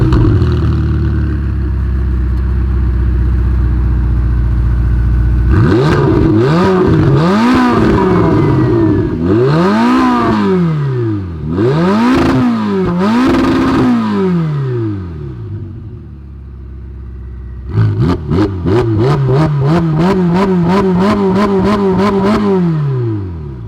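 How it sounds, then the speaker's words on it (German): A Ferrari 488 Pista's engine is loud and close as it revs repeatedly. Several rising and falling blips are followed by a pause, then a burst of rapid, stuttering revs toward the end. "Vor allem Ferrari hat, finde ich, immer so einen eigenen Klang."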